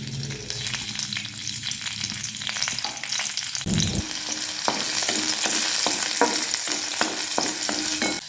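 Garlic frying in oil in a pan for a green chili thecha, with a continuous close sizzle and crackle, stirring clatter, and the frying growing louder partway through.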